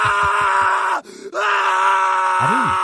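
A man screams at night in an animated horror story set at an old haveli, a loud sustained anguished cry broken by a brief gap and then a wavering rising-falling wail.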